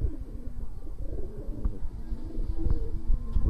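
Low, soft coos from a pigeon recovering from illness repeat over a murmuring background, close by, with a few faint clicks.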